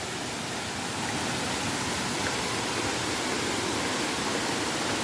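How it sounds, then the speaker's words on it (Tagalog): Hinulugang Taktak waterfall in Antipolo pours steadily, a continuous broad rushing hiss of falling water with no breaks, heard from a moderate distance. "Ayan na ang falls."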